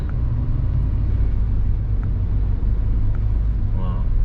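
Busy daytime city road traffic in Batam with many motorbikes and cars, a steady loud engine rumble and whoosh heard continuously from close by.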